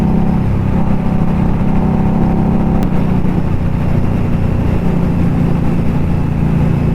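A steady, loud engine drone from an Indian Scout motorcycle while riding, with a sharp click near the middle and continuous low rumble throughout, no voices.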